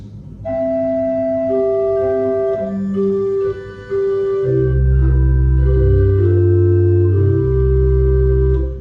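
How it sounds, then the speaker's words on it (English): Sustained, breathy pipe organ tones from an 8-foot flute stop, soft and flute-like, play a slow sequence of held notes, joined later by deep bass pedal notes, loud and resonant. "It's an 8 foot and it sounds like this."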